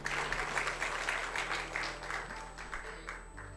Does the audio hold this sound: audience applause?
yes